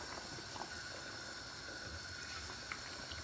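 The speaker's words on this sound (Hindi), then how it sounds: "जो हमने पानी डाला था वो अब बॉइल्ड होना शुरू हो गया" Water in a cooking pot starts to boil for mutton yakhni pulao, giving a faint, steady bubbling hiss with occasional small pops throughout.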